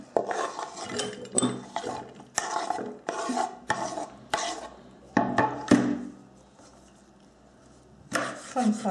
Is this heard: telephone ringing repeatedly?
no